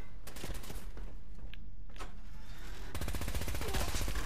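Fallout 4 video game gunfire, rapid repeated shots that build into a fast, steady automatic burst near the end, moderately loud throughout.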